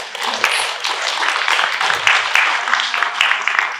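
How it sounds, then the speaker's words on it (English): An audience claps for event volunteers in a dense, steady round of applause that lasts the whole stretch without a clear build or fade. "We can please give them a round of applause for that."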